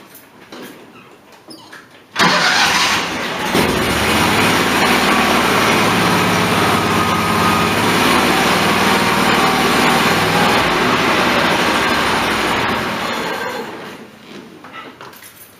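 A Deutz Allis 1920 garden tractor, a Simplicity Sunstar, starts abruptly and runs at a loud, steady idle close by for about eleven seconds before shutting down.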